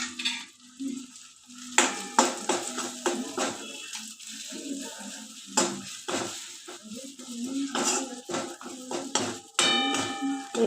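Spices such as garam masala and red chili powder are stirred and roasted in oil in a pan. A metal utensil clinks and scrapes against the pan over and over, over a faint background sizzle.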